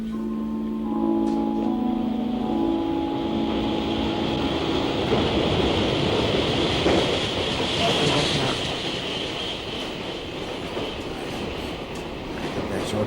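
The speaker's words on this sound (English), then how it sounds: "That's your train." A train passes in a period TV drama. A brief tonal note opens, then a loud, continuous rumbling clatter of wheels and carriages runs steadily on without pause.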